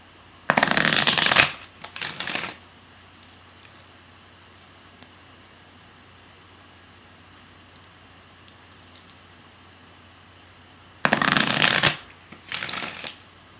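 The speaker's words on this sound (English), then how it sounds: "And we shuffle 3 times each." A deck of cards gets riffle-shuffled twice, each time two quick crisp bursts of fluttering card snaps, with a long quiet stretch between the two shuffles.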